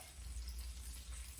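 Chicken Parm meatballs sizzle and crackle steadily in a hot pan, a soft continuous frying hiss with no voices.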